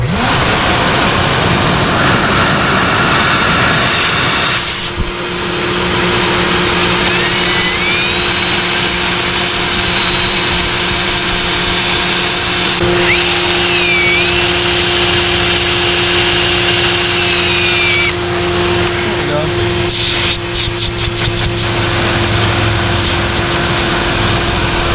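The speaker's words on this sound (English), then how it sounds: "So now we'll turn on the vacuum" A shop vacuum drones steadily and loudly in a garage while working on a VW Jetta 1.8T, its steady whine running throughout, joined at times by a drill's rising whir.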